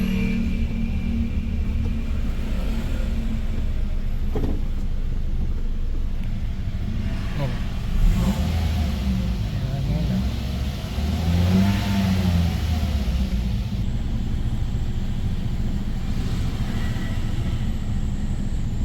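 A Toyota Vios third-generation car engine revs to about 3,000 RPM in a loud, steady rumble that swells and rises in pitch a couple of times before settling back.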